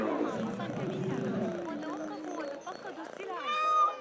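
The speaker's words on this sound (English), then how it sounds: "Oh, Kitty" A cat meows in Assassin's Creed Mirage, a short rising call near the end that follows a stretch of game voices and background bustle.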